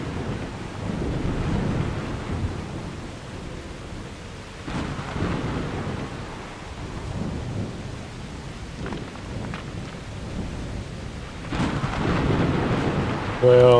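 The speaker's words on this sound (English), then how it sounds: "Oh, no, it's raining." Steady rain with low rolling thunder from a stormy scene in the video game Tales of Morrow, a continuous wash of rainfall with rumbles swelling near the start and end.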